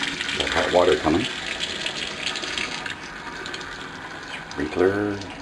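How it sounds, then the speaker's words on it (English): Hot water running from a tap after plumbing work, a steady rushing flow throughout with a metallic tap-handle squeal near the start and again at the end, loud and close. "Got hot water coming."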